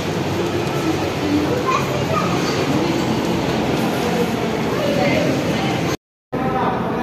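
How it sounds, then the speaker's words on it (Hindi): Inside a moving Lahore Orange Line metro train, a steady loud rumble of wheels and carriage noise fills the space, with people talking over it and a brief dropout near the end. "हमने जाना है जी ऑरेंज ट्रेन पे एम्पोरियम माल"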